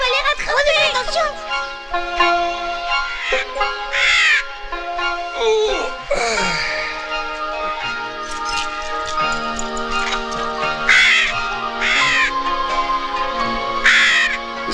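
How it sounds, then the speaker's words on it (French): A bald eagle calls in a western film scene, its repeated screeching cries rising over a dense orchestral music score that plays throughout. "C'est un aigle chauve."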